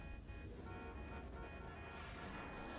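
A steady video game car horn in GTA Online blares continuously, loud and close, over a dense, noisy background.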